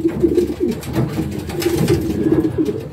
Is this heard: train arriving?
no